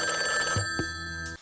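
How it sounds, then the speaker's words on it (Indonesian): A telephone rings with a steady electronic tone over a dense, droning background, and a couple of soft thumps mark the moment before the ringing breaks off. "Telepon itu diangkat oleh Peter"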